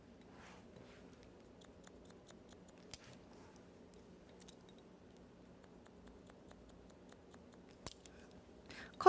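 Scissors snip quickly and quietly, point-cutting a man's fine, thin hair in a salon. Light, irregular clicks run close over faint room hum, with a louder snip near the end.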